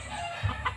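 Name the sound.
hen clucking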